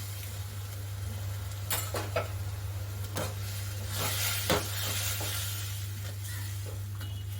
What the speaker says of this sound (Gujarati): હવે આપણે તેમાં બાજરાના રોટલાના ટુકડા કર્યા છે તે એડ કરી દઈશું